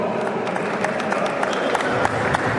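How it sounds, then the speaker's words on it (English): An audience at a Catholic archdiocesan town hall meeting for House of Assembly candidates in Owerri gives a steady round of applause, dense crowd clapping that stays even and fairly loud throughout with no pauses. "Put your hands together to round of applause."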